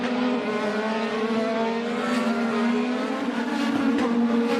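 Race cars roaring through turn one at the St. Petersburg Grand Prix, a loud sustained engine howl with shifting pitch and faint tire noise, continuous throughout.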